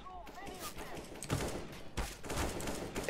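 Gunfire in Counter-Strike: Global Offensive pops in repeated bursts at moderate distance, with people talking over the shooting.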